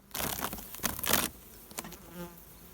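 Honeybees buzzing around a hive in an apiary at a first spring inspection, a dense, busy hum strongest in the opening second and then easing to a softer, steady drone with a few close passes.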